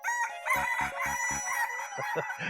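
Rooster crowing loudly and close by, a single drawn-out cock-a-doodle-doo, with clucking from other fowl at the start and end.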